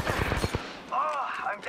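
A quick burst of several sharp gunshots rings out in an Apex Legends match. A short voice line follows right after the shots.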